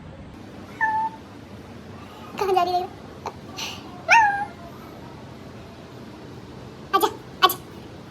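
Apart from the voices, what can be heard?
cat meowing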